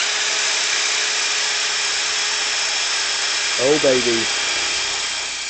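A Worx WX355 power tool runs steadily at speed setting 2, around 2100 RPM, giving a continuous high whine while a voice briefly exclaims near the end.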